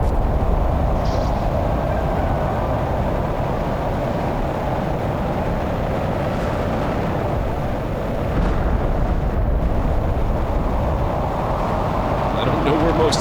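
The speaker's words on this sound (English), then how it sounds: "Prepare for incoming asteroid bombardment with nuclear chunks." Asteroid bombardment in the video game The Planet Crafter: a continuous heavy low rumble of distant impacts rolls on throughout, loud and steady with slight surges, while a person talks over it.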